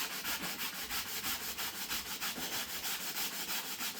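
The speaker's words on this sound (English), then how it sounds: "a little bit of sanding goes quite a ways" Rhythmic back-and-forth sanding of a wooden router-cut roundover edge to remove burn marks, quick, even strokes repeating steadily, close up and with no talking.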